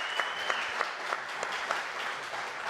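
An audience applauds at a talk about Will Rogers, a dense, even wash of clapping from many hands that carries on steadily throughout, fairly close and loud, with no speech over it.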